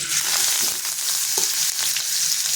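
A blended spice masala paste hits hot oil in a pot for a village-style modak fish curry, giving a loud, steady, dense sizzle that hisses on without a break.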